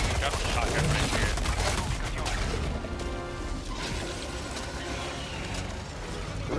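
A shotgun fires in Helldivers 2 inside an alien nest: a quick run of loud, sharp blasts in the first half, then a rougher mechanical clatter with some voice underneath.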